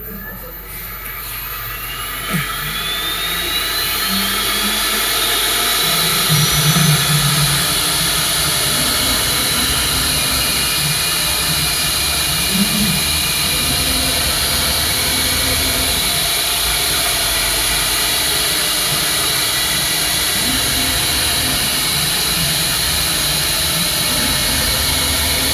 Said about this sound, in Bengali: মেশিন স্টার্ট হয়েছে।